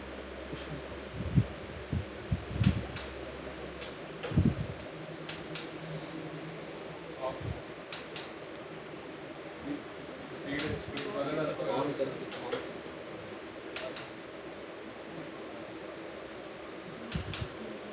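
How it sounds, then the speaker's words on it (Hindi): An electric fan runs with a steady, fluctuating hum under scattered speech and a few knocks, close and fairly quiet. "ये पंखा को उस साइड कर देना, ये फ्लक्चुएट हो रहा है साउंड।"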